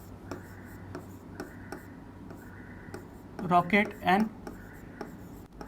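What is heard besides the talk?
writing on a board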